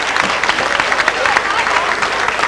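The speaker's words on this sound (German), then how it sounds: "Ein Applaus nochmal für unseren dritten Anrat." Audience applauding a third councillor at a 1992 music parade in Moos, dense loud clapping from a crowd filling the whole stretch without pause.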